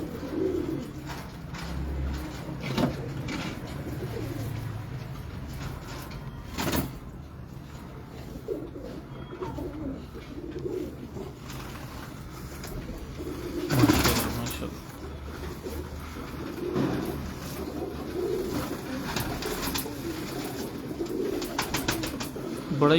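A pet pigeon, a Frenchie-type fancy bird, coos in low repeated phrases close by, with scattered bird chirps and background voices talking over a steady ambient hum.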